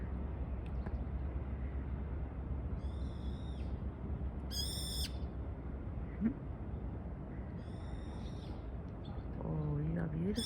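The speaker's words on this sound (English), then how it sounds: "Hello, little bird." Small birds call in a park on a Sunday, a few brief high chirps scattered over steady outdoor noise, with a lower call near the end and people talking nearby.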